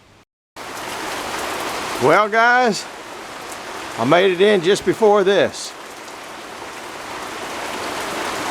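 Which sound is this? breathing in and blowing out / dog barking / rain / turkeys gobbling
rain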